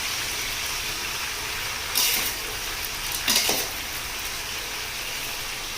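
Tomatoes are stirred in oil in a large pan for pickle, a steady sizzling bed of frying with two brief scraping stirs of a spoon against the pan, no talk.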